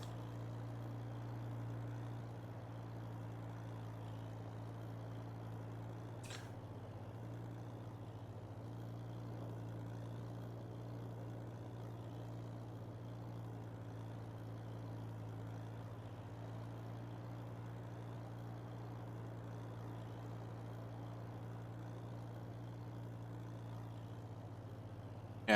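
A tractor engine in a farming simulator game, a quiet, steady low drone with a constant hum running throughout, plus one brief faint click partway through.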